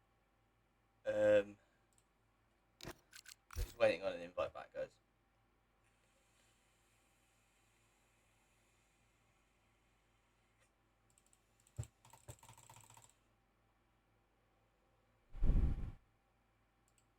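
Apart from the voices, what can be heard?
computer keyboard typing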